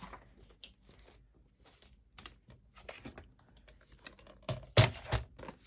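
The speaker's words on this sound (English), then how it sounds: "So let's go ahead and cut that." Scissors snipping through paper for a journal tip-in page, a series of short, crisp cuts at an uneven pace, close and fairly quiet, with one louder snip near the end.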